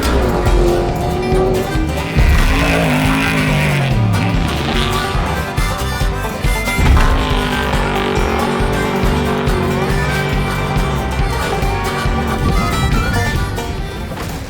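A trophy truck powers across natural off-road terrain on big jumps, its loud engine roaring steadily throughout with revving surges and shifting pitch, close and alone without talk.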